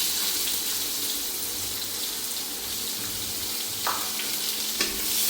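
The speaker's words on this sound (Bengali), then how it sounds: "পেঁয়াজগুলি একটু ভেজে নেব লাল করে" Chopped onions fry steadily in hot oil with whole spices such as cinnamon, cardamom and cumin, giving a continuous close sizzle with a couple of brief clinks near the end.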